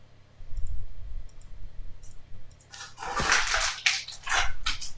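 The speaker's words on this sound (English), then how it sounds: "He loves plastic water bottles, so he'll just tear them up and make a bunch of noise" A dog chews and tears at a plastic water bottle nearby, with loud crinkling, crackling bursts in the second half after a few faint clicks, alone with no talk.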